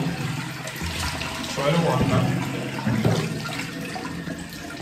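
Tap water runs and splashes, swelling louder midway, while a person talks briefly over the flow.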